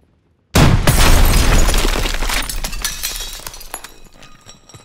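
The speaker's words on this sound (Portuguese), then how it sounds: "Cuidado com a explosão." A launcher explosion in the Call of Duty WWII video game: a sudden loud blast with shattering debris and glassy crackle, decaying over several seconds, with no talk.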